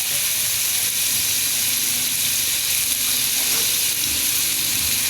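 Alamang shrimp paste sizzles loudly and steadily in a hot frying pan while cooking laing, a constant close frying hiss with no break.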